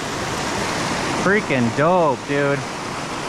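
Small waterfall in a mountain stream swollen by spring runoff, a constant broadband rush of water running throughout while someone speaks briefly over it.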